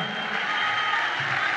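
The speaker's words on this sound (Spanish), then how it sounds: "un aplauso grande para estos músicos" A festival audience in Punta Arenas, Patagonia gives the musicians a big round of applause, a dense, even wash of clapping that holds steady from start to finish.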